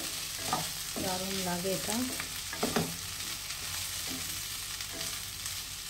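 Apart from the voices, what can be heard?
new potatoes, beans and onion frying in a pan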